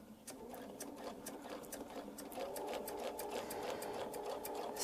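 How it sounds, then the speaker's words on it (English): Sewing machine running steadily while stitching a quarter-inch seam along a template on a Baptist fan quilt, with a quick, even needle chatter throughout, close and clear. "line up the template. and we're going to sew our 1/4 inch."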